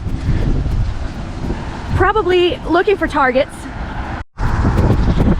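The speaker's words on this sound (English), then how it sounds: "it is so windy" Strong outdoor wind buffets the microphone with a steady low roar, while someone talks over it and traffic passes in the background.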